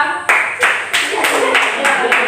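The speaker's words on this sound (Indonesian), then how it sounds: "Tepuk tangan untuk Tifa." Claps for Tifa, a student in a classroom teaching session, come in distinct sharp bursts about every third of a second, close and moderately loud, with some voices mixed in.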